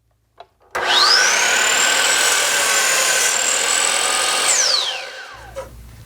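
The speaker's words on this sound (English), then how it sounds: "I'll make the cut with the miter saw" A miter saw spins up with a rising whine, then cuts through a maple board in one loud, steady pass for about four seconds before winding down.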